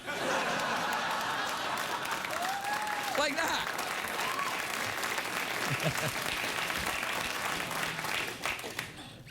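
Studio audience applause and light laughter on a late-night talk show fill the room as a steady wash of clapping, with a brief spoken remark and some chuckles heard over it.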